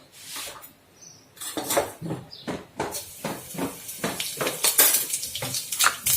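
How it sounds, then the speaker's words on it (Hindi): Cumin seeds hit hot oil in a pan and set off a burst of crackling, popping sizzle. Utensil clinks and scraping are heard close by as the spattering builds, and nobody speaks. "तेल गरम हो गया, हम इसमें डालेंगे जीरा।"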